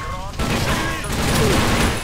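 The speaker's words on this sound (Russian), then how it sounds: "И вот она первая стрельба в этой игре." Gunfire bursts out in the video game TimeShift, a rapid, crackling fusillade of shots over a noisy background, with someone talking over the shooting.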